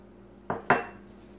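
Sugar and salt being whisked in a bowl for beignet batter come through as two sharp utensil clinks against the bowl, close and quiet otherwise.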